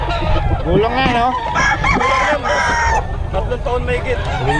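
A rooster crows loudly and repeatedly up close, with hens clucking around it and a brief bit of human voice mixed in.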